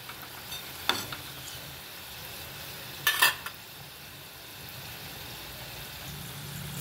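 Vegetable kofta made with cauliflower, peas, fenugreek, capsicum and bottle gourd fry in oil with a soft, continuous sizzle, punctuated by two brief clattering knocks of a utensil.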